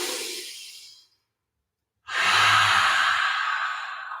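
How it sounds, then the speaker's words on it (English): A loud, forceful exhale pushed out through the mouth during yoga breathing, a long breathy rush lasting about two seconds after a brief silence. A softer trailing breath comes first. "breathe into your nose, big inhale, and then push it out through your mouth really loud"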